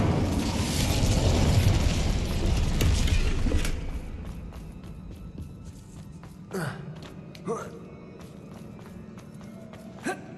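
A spell from Hogwarts Legacy blasts through a magical barrier: a loud, rumbling explosive burst lasting a few seconds, then fading into quieter magical whooshes and scattered crackles.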